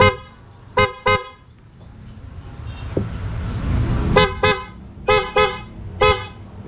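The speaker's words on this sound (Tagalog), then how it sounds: "So i-activate natin yung loud horn. Yan, ayun yung loud horn nya." A loud aftermarket horn fitted to a Honda ADV160 scooter blares in several short honks, a pair first, then after a pause four more in quick succession, close and piercing over low engine noise.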